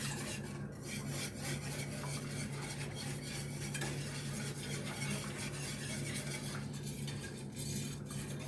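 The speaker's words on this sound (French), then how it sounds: "j'ai bien remué le tout avec mon fouet" A wholegrain mustard sauce for pork filet mignon being whisked in a pan, a continuous close, fast scraping and clattering of wire against metal with no pauses.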